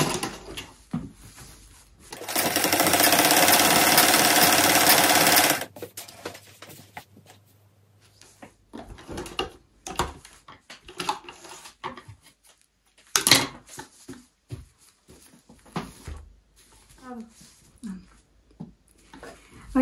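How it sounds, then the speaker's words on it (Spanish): A sewing machine runs loudly for about three seconds as it joins two pieces of a sweater, followed by scattered handling clicks, rustles and taps of fabric work. "Vamos a coser las dos partes, las vamos a unir."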